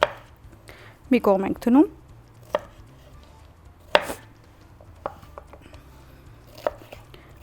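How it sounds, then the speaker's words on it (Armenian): A knife chops salad ingredients for a tuna and pasta salad into small cubes, giving a few scattered, crisp taps on a cutting board. Someone speaks briefly between the cuts. "Մանր բզդիկ քարագուսիներ կամ խորանարդիկների գտրատում ենք"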